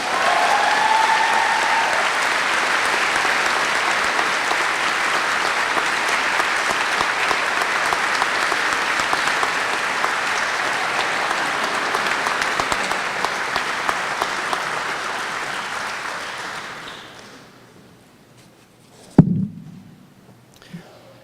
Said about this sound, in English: please join me in applauding our Male Faculty Recognition Award recipient, His Majesty the King, Grant Pita.